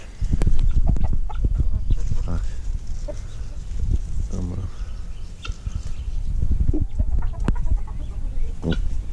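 Chickens clucking close by amid rustling and scuffling, with occasional sharper squawks over a busy, noisy outdoor background.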